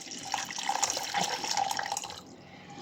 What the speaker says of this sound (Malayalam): നമ്മൾ വെള്ളം ഒഴിക്കാൻ പോവുകയാണ്.